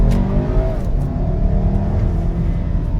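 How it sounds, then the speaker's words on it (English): Audi Q3 compact SUV engine pulling under throttle while driving, a steady close low drone that builds slightly, with no talk over it. "Give it some throttle here."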